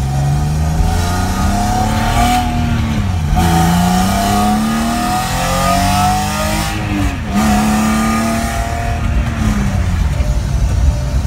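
A 1987 BMW E30 four-door fitted with a 2005 330 M54 engine drives along, its engine note climbing through gears with several rev rises and shift dips, loud and close from inside the car.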